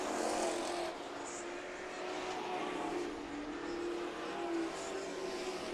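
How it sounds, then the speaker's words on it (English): Northwest Tour race trucks lapping at Meridian Speedway during the Diamond Cup, a steady distant engine roar with shifting pitch as the pack passes, under faint commentary. "John Newhouse took the lead on the outside, has no problem getting around Everett's 15 on the outside."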